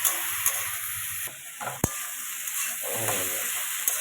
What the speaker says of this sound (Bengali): আর এখানে হলুদ দেবো আর এই যে মশলা আছে জিরে লঙ্কা গুঁড়োটা দিয়ে দেবো তা একটু এটা হতে থাকুক